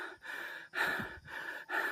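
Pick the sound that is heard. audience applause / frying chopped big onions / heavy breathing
heavy breathing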